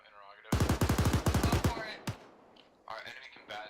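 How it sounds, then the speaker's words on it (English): Rapid automatic gunfire from an Arma 3 military firefight, a sharp burst of about a dozen shots in quick succession, followed by a single shot and faint background chatter. "Thought I heard shots coming in this way."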